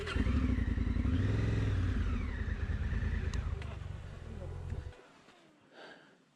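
An adventure motorcycle, a Honda Africa Twin or BMW, rolling up on a sandy mountain road, its engine note rising and falling near the mic before cutting off; a voice speaks briefly over it.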